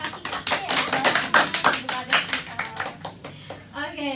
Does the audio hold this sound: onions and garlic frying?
no